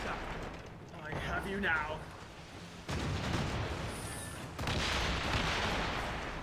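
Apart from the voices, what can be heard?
heavy shot cannon fire, Assassin's Creed Rogue video game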